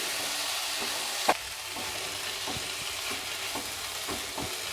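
Tomato stirred into egg curry masala frying in a pan, a steady close sizzle broken by a sharp clack of the utensil early on and then regular soft scraping strokes, no voices.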